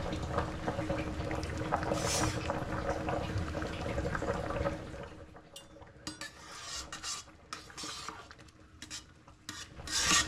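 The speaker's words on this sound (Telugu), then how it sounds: "ఒకసారి కలుపుదామమ్మా గంటతో" A ladle stirs coconut rice cooking in a pot, soft scraping and thick bubbling at close range, quieter and more broken in the second half with scattered light knocks.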